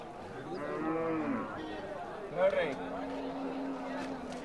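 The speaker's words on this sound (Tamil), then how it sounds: "ரெண்டு பசு மாடு தாங்க" Cows mooing at a busy livestock market in Vaniyambadi, with two long lowing calls over a murmur of crowd chatter and people talking nearby.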